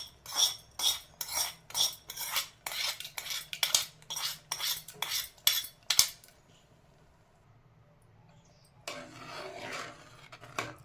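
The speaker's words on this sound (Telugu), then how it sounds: "ఇందాకలా వేసిన తాలింపు అనేది దీంట్లో మిక్స్ చేస్తున్నాం మనము." A metal spoon scrapes and clinks rhythmically against a pot while tempering is stirred into gongura (sorrel leaf) dal. The strokes are close and steady for about six seconds, then stop, followed by a brief burst of rustling.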